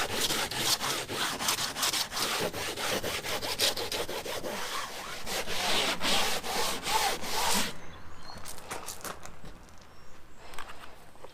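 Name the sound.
sanding a catamaran hardtop with abrasive sanding nets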